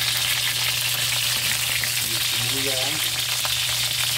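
Garlic sizzling in hot oil in a pan for pork hock estofado, a steady loud frying hiss throughout with a brief spoken word over it.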